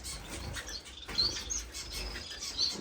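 Finches in a home bird room give a few faint, high, scattered chirps over soft rustling and low background noise.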